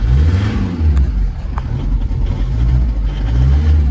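Engine of a 1998 VW Caddy pickup idling steadily and close, a low continuous rumble with slight rises in revs, a few faint clicks on top and no talk.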